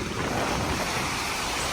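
Ocean surf rolls steadily onto Siesta Key Beach, a continuous broad wash of breaking waves mixed with wind buffeting the microphone, with no one speaking.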